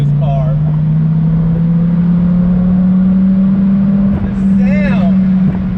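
Dodge Viper engine pulling uphill under acceleration, a loud, close, steady low drone that rises slowly in pitch, with a voice speaking briefly over it.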